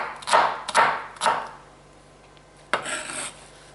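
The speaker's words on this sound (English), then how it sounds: "cut them into pieces like this" A knife chopping cabbage into pieces on a cutting board, three quick rasping cuts in a row, then a pause and a fourth longer slicing stroke, close and clear with no talking.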